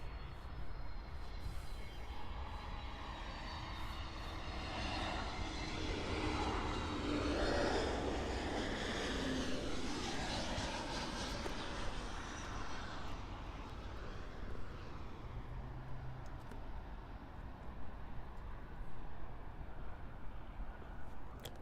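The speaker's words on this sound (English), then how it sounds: "here is the Airbus A321neo arriving in from Lima." An Airbus A321neo airliner arriving from Lima lands at Miami International Airport, its jet engines swelling into a broad roar as it passes and then fading into a steady distant rumble, heard alone outdoors.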